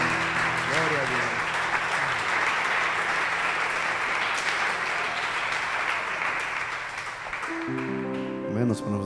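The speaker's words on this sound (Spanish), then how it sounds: "Denle un fuerte aplauso a Jesucristo." A church congregation breaks into strong, sustained applause, a dense wash of clapping heard across the room that holds steady for several seconds, with voices and sung tones rising at the start and end.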